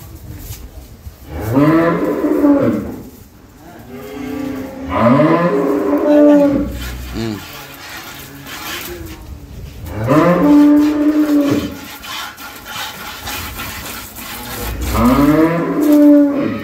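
A cow at a cattle market moos loudly and repeatedly, four long drawn-out calls with short pauses between, close by and clear over faint background noise.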